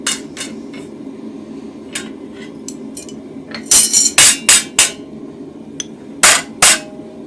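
A hammer strikes a chisel through hot steel resting on an anvil while forging a barbecue toasting fork, with a series of sharp ringing metallic blows in two bursts over a low background hum.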